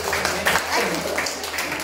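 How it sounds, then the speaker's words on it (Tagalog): A congregation applauds during a Sunday worship service in church, dense continuous clapping from many people filling the room, with some voices mixed in. "Pwede po bang pumalakpak lahat ng yun?"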